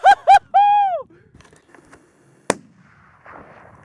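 A single sharp rifle shot cracks out once midway through a late-season mule deer hunt in Nevada, following a few brief whistly chirps, with quiet outdoor ambience around it.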